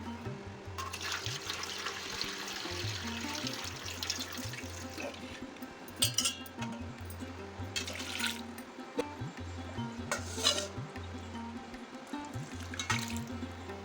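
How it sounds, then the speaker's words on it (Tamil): Water trickling and draining out of soaked poha (flattened rice) in a sieve bowl, soft gurgles and splashes over a low background hum, with brief louder bursts of water. "அது அதில் அப்படியே தண்ணி வடிஞ்சிடும்"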